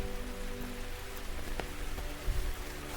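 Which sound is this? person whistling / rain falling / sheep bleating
rain falling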